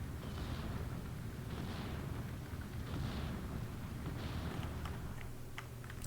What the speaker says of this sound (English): Now the mortars start firing actually at the Little John.